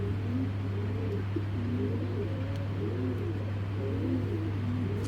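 A racer pigeon coos in soft, repeated low rolling phrases close by, over a constant low electrical hum.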